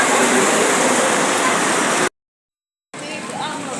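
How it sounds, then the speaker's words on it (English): Heavy rain pours down with running water in a loud, dense, steady hiss. It cuts out briefly, then returns slightly softer. "raining very heavily"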